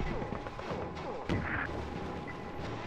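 Heavy tank cannon shots in Conker's Bad Fur Day, a punchy boom with a crashing impact over ongoing game noise and background music.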